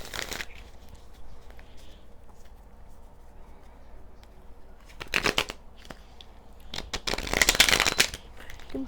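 Tarot cards being shuffled by hand in a few close, crisp riffling bursts with quiet handling noise between them, and no talking.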